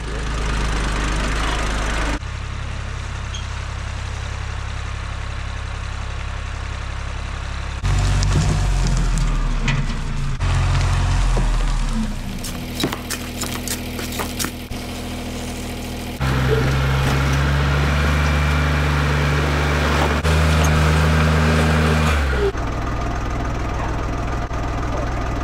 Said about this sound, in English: we're gonna go get the tractor in